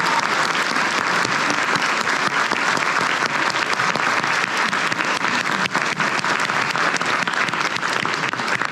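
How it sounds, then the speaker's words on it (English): Sustained, loud audience applause fills the hall at a Bakersfield College choir concert, a dense steady wash of clapping holding at full strength throughout with no voices over it. "Please give them a round of applause."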